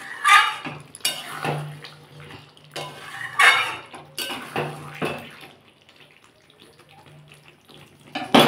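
A spoon stirs chicken curry with garam masala in a metal pot, giving several loud clanks and scrapes against the sides with short pauses between, then quieter shuffling before a final knock.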